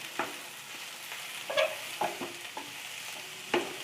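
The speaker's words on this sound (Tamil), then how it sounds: "கேரட் 1 கப்பு, கோஸ் 1 கப்பு, குடமிளகாய் 1 கப்பு, இது எல்லாத்தையும் சேர்த்து நம்ம ஃப்ரை பண்ணிக்கலாம்." Carrot, cabbage and capsicum for a veg momo filling fry quietly in a pan. A soft sizzle is broken by several distinct stirring scrapes and clinks, spaced irregularly.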